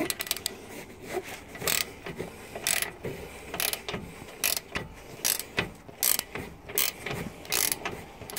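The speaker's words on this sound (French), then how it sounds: "Donc là, j'ai dévissé l'écrou du haut." A ratchet clicks in short, irregular bursts while unscrewing the upper nut on a Seat front hub carrier, the sharp metallic pawl ticks close and distinct against faint background noise.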